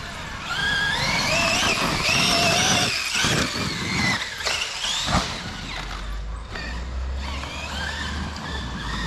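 A Traxxas X-Maxx RC car fitted with upgrades is driven hard, its loud electric motor whining and revving up and down under acceleration, with rough crunching bursts in the middle and a person talking toward the end.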